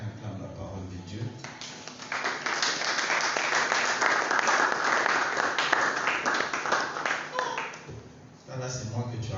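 A church congregation applauds and cheers in praise, a dense crowd of clapping mixed with voices that swells for several seconds, then thins out near the end as a voice speaks.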